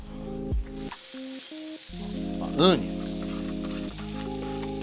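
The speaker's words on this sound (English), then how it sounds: "Onions are down." Onions sizzling in an olive and canola oil blend on a Blackstone griddle, a steady hiss under loud tonal hum and a short squeal partway through.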